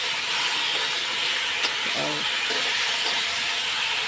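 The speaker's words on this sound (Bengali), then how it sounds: "এখন কষিয়ে নিচ্ছি একটু কষিয়ে তারপরে পরে জল দেবো" Fish curry spices sautéing in a pan, a loud steady hiss and sizzle throughout, with faint clinks of a utensil against the pan.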